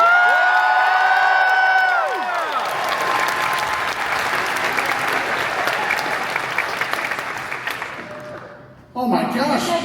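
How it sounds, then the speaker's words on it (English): A packed room at a Megacon Orlando convention panel breaks into loud, sustained applause with cheering and whoops. A voice announcing a guest opens the moment and is quickly swallowed by the steady roar of clapping that slowly fades. "And finally, make some noise for Mr. Charles Gray."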